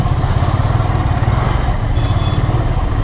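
An air-cooled Ducati Scrambler 800 twin idles and rumbles in traffic, a loud close low-pitched pulsing throb with a steady beat and faint clatter, no talk over it.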